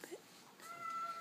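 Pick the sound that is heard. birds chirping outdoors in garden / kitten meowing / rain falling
kitten meowing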